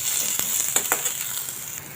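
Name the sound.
onions sautéing in a pan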